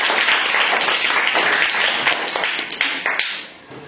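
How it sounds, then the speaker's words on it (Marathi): Primary school children clapping together for a classmate during a quiz, a loud dense round of applause that tapers off near the end. "वैष्णवीसाठी सगळ्यांनी टाळ्या वाजवायच्या"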